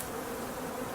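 Honey bees buzz at a hive in high summer, a dense, steady drone of many wings fanning the entrance, close and continuous with no pauses and no voices.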